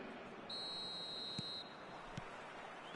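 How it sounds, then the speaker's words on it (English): Referee's whistle blown once to start the second half of a football match, a steady tone of about a second over crowd ambience, with two short thumps after. "Whistle goes, and we start the second half."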